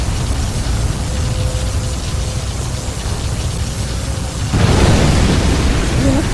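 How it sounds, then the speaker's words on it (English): A nuclear missile strike explosion in the C&C Generals strategy game, a loud sustained roar of noise that swells abruptly partway through after a quieter rumbling stretch, with no speech over it. "a nuclear missile has been launched"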